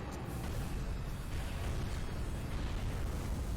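A missile explosion in the PS2 game Monster Attack rumbles as a deep, continuous booming roar, loud and sustained with no talk over it.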